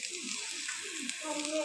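Turmeric, red chili powder and Everest paneer masala frying in a pan over medium gas, a soft steady sizzle with faint stirring, close and fairly quiet throughout.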